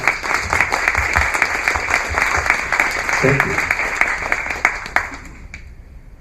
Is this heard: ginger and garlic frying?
no